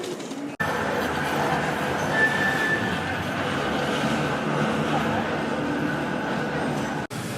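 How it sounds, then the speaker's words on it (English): Train at Piccadilly station in Manchester, a steady loud rumble of rolling carriages with a faint high squeal, cut off by brief dropouts near the start and end, no talk. "I'm on my way to meet Fritz Media at Piccadilly train station."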